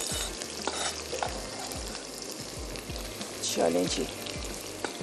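Chopped onions sizzle and fry in a pan for mutton rara, a spoon stirring and scraping them in steady repeated strokes, close and continuous, with a brief spoken phrase over the cooking.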